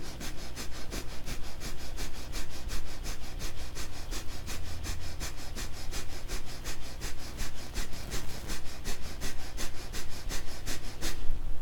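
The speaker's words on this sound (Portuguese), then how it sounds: "você contrai e solta o abdômen respirando pelas narinas" Rapid rhythmic breathing through the nostrils while the abdomen contracts and releases, a fast even series of sharp nasal puffs close up and fairly loud, continuing for about twelve seconds with no talk.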